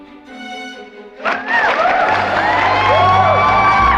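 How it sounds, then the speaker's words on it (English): A comedy show audience at a graduation-themed set bursts into loud cheering, whoops and applause after a brief quieter lead-in, the crowd noise swelling and staying dense to the end. "And applause."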